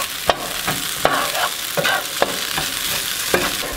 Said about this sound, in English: You wanna cook the potatoes up pretty good.